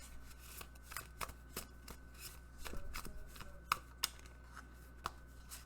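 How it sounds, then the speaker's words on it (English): A large oracle deck of about ninety cards being shuffled by hand, soft riffling and scraping in irregular bursts with a few sharper snaps, close and fairly quiet, with no talking. "Shuffly shuffle these. There's a ton of cards in this deck."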